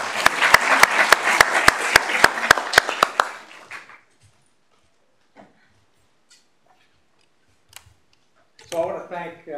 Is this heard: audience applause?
yes